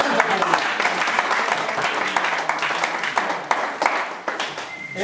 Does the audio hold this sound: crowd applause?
yes